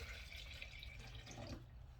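Hot water poured into a blender, a soft continuous trickle and splash heard faintly and steadily for about two seconds.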